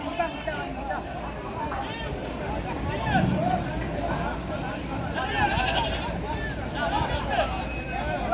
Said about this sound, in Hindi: वो बकरा, ये देखो।